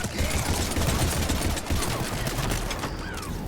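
Enemy gunfire in the video game Mass Effect 3 rattles in a dense, rapid fusillade of overlapping shots, loud and continuous throughout.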